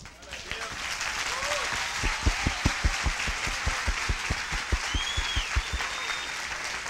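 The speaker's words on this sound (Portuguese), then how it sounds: "a gente pode dar mais uma salva de palmas ao Senhor pela vida do pastor Roberto" A church congregation claps together during an evening service, sustained steady applause with rhythmic, evenly spaced claps building through the middle, moderately loud in a large room with a murmur of voices underneath.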